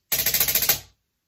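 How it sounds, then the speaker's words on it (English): A snare drum plays a nine stroke roll in a beginning solo exercise: a quick burst of about nine even, crisp strokes ending in an accent, close and clear with nothing else heard. "9 stroke rolls use this hand pattern"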